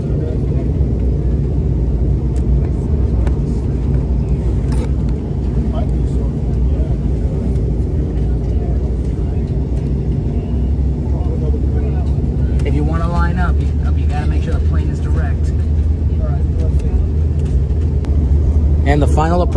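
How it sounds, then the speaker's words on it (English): Steady low engine drone and airflow roar fill an airliner cabin on final approach into Memphis, constant and close throughout, with faint voices murmuring underneath. "And the final approach has begun."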